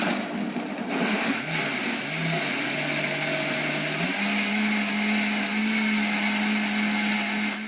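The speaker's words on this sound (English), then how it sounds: "Blend this for 90 seconds." A blender runs continuously while it purées a high-protein fruit smoothie. Its loud motor whine climbs in pitch in a few steps and then holds steady, with no talk.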